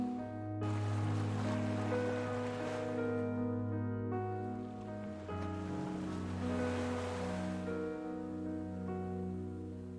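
Ocean waves wash in a steady, continuous surf roar at moderate volume, layered with a sustained tonal background and no speech.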